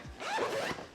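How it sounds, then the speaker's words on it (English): A zipper on the L-shaped laptop compartment of a GORUCK M23 backpack is drawn in one quick, close, brisk pull lasting under a second. "Zipper does go on this L-shaped"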